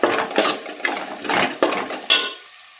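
Onion being stirred as it fries in a pan while making green tuvar (pigeon pea) kachori, with a series of spoon scrapes and clinks against the metal pan at an irregular rhythm, close and fairly loud.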